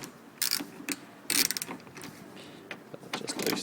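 A ratchet loosens three T30 Torx screws on the rear door of a Lexus RX330/RX350/RX400h, giving several short, close bursts of quick clicking separated by brief pauses, with no talking.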